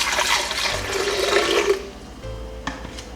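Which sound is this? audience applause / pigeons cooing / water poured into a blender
water poured into a blender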